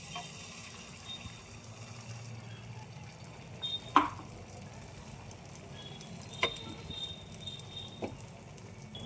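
An omelette sizzles steadily in hot oil in a pan, with a constant close frying hiss and a few sharp clinks of utensils.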